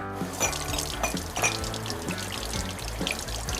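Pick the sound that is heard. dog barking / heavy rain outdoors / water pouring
water pouring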